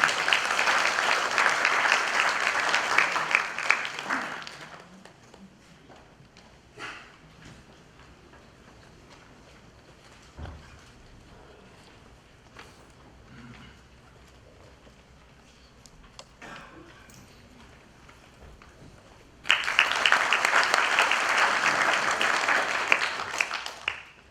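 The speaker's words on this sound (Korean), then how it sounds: "큰 박수 부탁드립니다" Crowd applause at a commemorative ceremony in a hall, a burst of dense clapping that fades out after a few seconds, a quiet stretch with small shuffles, then a second loud round of clapping toward the end.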